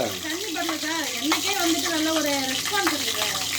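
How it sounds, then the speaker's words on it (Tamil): Onion uttapam batter sizzles and crackles continuously on a hot griddle, a loud, steady frying hiss with people talking and exclaiming over it throughout. "என்ன மேடம் பொரியுதே ரொம்ப தண்ணி தண்ணி பட்டுருச்சு"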